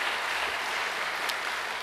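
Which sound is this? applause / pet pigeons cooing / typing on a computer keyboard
applause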